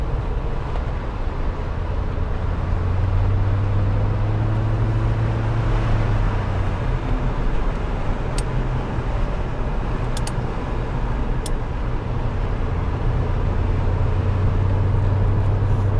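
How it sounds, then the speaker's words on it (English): A 1986 Porsche 928S with its V8 drives steadily, a continuous low engine drone and road rumble filling the cabin at mid-throttle, with no voices over it. "And it's definitely a 928 with the V8 power, a lot of torque."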